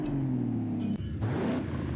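A 7.7 V12 engine swapped into a Toyota Camry in Forza Horizon 5, idling with a steady low hum, then briefly revving upward in a burst before settling, close and clear with no talk.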